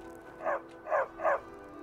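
A dog in the Skyrim video game gives three short, evenly spaced barks over a steady background hum, fairly close and moderately loud.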